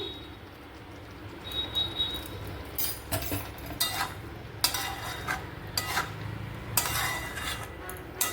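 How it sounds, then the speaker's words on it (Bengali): Metal spoon scraping and clinking against a pan while ground garam masala and ghee are stirred into a yam curry, irregular clatters repeating throughout over steady background hiss. "এর মধ্যে এখন আমি বাটা গরম মশলাটা দিয়ে দিলাম, একটু নেড়ে নিচ্ছি।"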